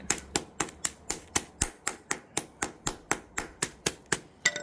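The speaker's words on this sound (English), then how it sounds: "If you can't hammer stuff and smash stuff to pieces," A hammer strikes slate again and again, smashing it into fine ballast for an 009 narrow-gauge model railway layout. About seventeen sharp, evenly spaced blows land close by in a steady quick rhythm.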